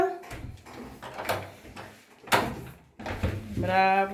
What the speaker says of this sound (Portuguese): Abre a porta.